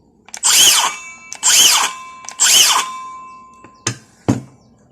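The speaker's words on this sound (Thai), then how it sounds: "ต่อไปผมก็จะมา ทดลองใช้กับเครื่องเลื่อยวงเดือนเลยนะครับผม" A cordless circular saw spins up in three loud, sustained bursts with short gaps, followed by two brief sharp knocks, close and loud.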